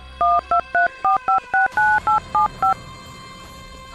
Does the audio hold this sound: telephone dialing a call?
yes